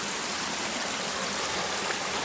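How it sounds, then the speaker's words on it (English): A small stream of water running under a bridge on a walking trail, a steady close rushing and trickling wash that fills the whole moment without any pauses or voices. "Got a little water running through there."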